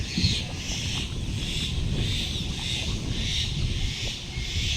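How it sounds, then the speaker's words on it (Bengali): A breeze blows across a canal below the Massanjore hydroelectric dam near Dumka, Jharkhand, as a steady, rushing wind noise that buffets the microphone in gentle surges for the whole stretch. "সুন্দর হাওয়া দিচ্ছে"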